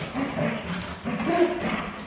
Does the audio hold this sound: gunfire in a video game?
no